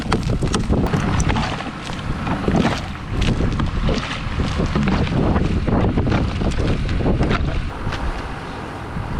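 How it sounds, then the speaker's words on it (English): Strong wind buffets the microphone in loud, continuous gusts that roar throughout, outdoors in extreme cold of 68 degrees below zero near cattle. "It's still windy. You probably will hear it on the mic"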